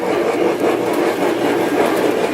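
A model train rumbles steadily along its track, with a continuous close, loud clickety-clack and no talking.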